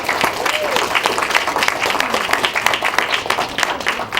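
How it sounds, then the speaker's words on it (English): Audience applause for students at a school coffee house evening of music and poetry readings, a steady wash of many hands clapping with a few voices mixed in, sustained at moderate loudness throughout. "One last round of applause for them."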